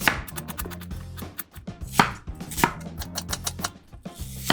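A knife chops steadily through two kinds of onions on a board, quick repeated thuds in uneven bursts, close and clear with no talking.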